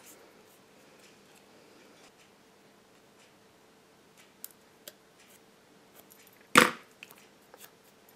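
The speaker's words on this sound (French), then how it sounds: "Je découpe ceci avec mes ciseaux." Scissors cut through stamped, heat-embossed paper for a craft label, a few faint clicks and snips in a quiet room followed by one sharp, close crunching cut.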